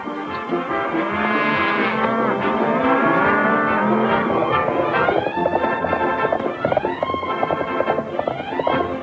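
Several cattle moo in overlapping, drawn-out calls, loud and continuous, with hoof clatter mixed in.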